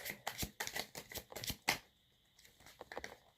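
Tarot cards are shuffled in quick riffling bursts, with a string of crisp flutters followed by softer, sparser card sounds, close and quiet.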